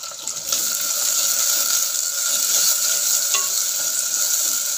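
Chopped tomato sizzles steadily in hot oil while frying for a village-style mango curry. The hiss is loud and close and continuous, with a soft stir or clink now and then and no talking.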